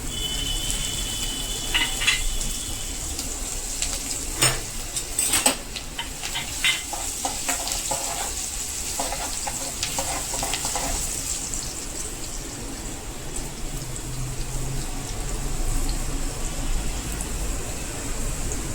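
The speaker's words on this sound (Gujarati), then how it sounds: "લીલા લીમડાના પાન નાખશું। કટ કરેલી તીખી મરચી નાખીશું।" Curry leaves and chopped hot chilies hit hot oil, giving a bright crackling sizzle with sharp pops early on that settles into a steady, even frying hiss, with no voices.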